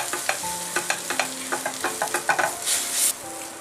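Chili powder and garam masala frying in oil for a dal curry, with a soft sizzle under a run of sharp spoon scrapes and taps against the pan, close up, ending in a brief hissy swell.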